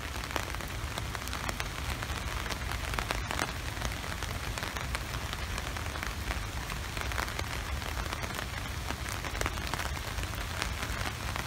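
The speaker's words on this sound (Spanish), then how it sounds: "Es que aquí en Tokio llueve con gota gorda" Heavy rain falls on Tokyo in a dense, continuous downpour, a steady close hiss of countless drops with no let-up and no voices.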